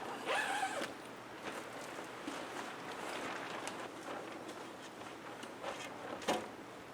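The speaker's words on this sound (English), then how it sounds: "Sometimes the zippers freeze and it's hard to get them unzipped." Frozen zippers on a temporary winter shelter are pulled open in several quick scratchy rasps, close and fairly quiet, with a stiff catching texture between pulls.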